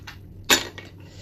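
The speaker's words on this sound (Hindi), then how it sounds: "बहुत ज़्यादा सारी आइस ऐड करेंगे अब इसमें।" Ice cubes tumble into a glass as a drink is made, a short bright clattering burst in the middle with a softer clink after, close and alone over a quiet kitchen hum.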